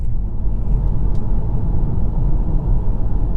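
Inside a MINI Countryman plug-in hybrid as its petrol engine kicks in, a steady, loud low rumble of engine and road noise fills the cabin without interruption.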